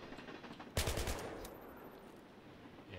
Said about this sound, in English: No, that's a machine gun basically, so it's a long range machine gun.